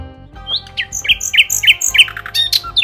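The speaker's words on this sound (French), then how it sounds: "Ce rossignol nous accompagnera un bout de chemin." A nightingale sings a rapid, varied phrase of bright chirps and whistled notes outdoors on Minorca, loud and close, with a steady low rumble underneath.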